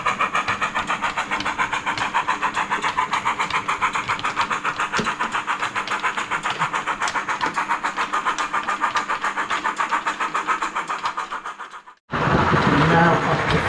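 A Rapido GWR 44xx model tank engine with DCC sound running on a layout hauling coaches, giving a steady rapid chuffing exhaust beat with mechanical clatter, then cutting briefly to silence before a louder burst of sound.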